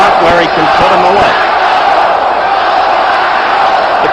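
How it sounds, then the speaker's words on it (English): A boxing arena crowd at a 1973 bout roars for national champion Clyde Gray, a loud, dense, sustained wall of cheering, with a few thuds and a commentator's voice briefly over it at the start. "The crowd roaring for its national champion, Gray."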